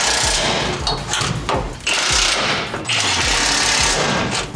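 Power tool tightening bolts on a period-correct bumper being installed on a 6.4 Powerstroke truck, heard as loud rattling hammer bursts in several long runs separated by short pauses.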